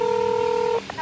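A single steady telephone keypad tone for digit 8, pressed during a 112 emergency call, followed by brief faint clicks once the tone stops.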